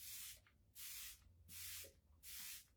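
Ulta Beauty makeup setting spray misted from a bottle in four separate hissing bursts, each about half a second long with short pauses between, close and clear with no talking.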